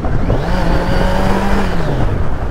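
A 2023 Kawasaki Z900 Anniversary Edition motorcycle accelerating in sports mode in Kolkata, engine note rising steadily in pitch then easing off, close and loud, no talk.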